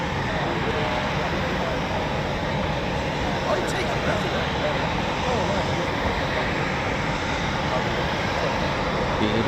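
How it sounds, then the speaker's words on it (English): Eurofighter Typhoon FGR4 military jet engines spooling up at an RAF station, a steady loud broadband roar that holds throughout without letting up. "I think I can hear more typhoons spooling"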